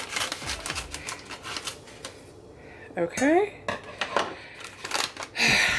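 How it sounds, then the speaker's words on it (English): A few sharp snipping and crinkling sounds of kitchen scissors cutting into a cookie mix package, close by, with a brief spoken word near the start. "I'm gonna use the kitchen scissors to cut open."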